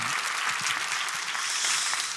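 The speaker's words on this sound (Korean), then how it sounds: "박수로 모시겠습니다." Audience applause at a church gathering in Korea: a dense, steady wash of clapping from many hands, fairly loud and continuous for a couple of seconds with no talk over it.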